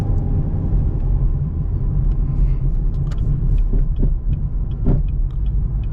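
A 900+ horsepower Chevrolet Camaro ZL1 drives in traffic toward the freeway, its engine a steady, loud, close low rumble and throb that runs throughout without any talking.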